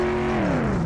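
A car engine in the video game My Summer Car roars steadily during a drag race, its pitch sliding downward as it revs, loud and close with no talking.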